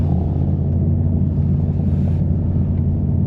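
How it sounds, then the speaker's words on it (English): Brutal exhaust of a 2025 Mercedes-AMG GT 63 coupe heard from inside the cabin, a steady loud low rumble droning throughout with no speech over it. "That is a real brutal exhaust."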